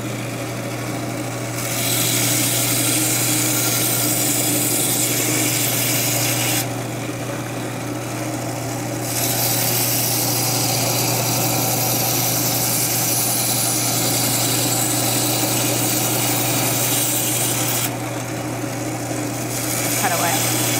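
A power tool runs loudly and steadily as it cuts a coral frag in half, its high whine dipping briefly a few times as the cut changes.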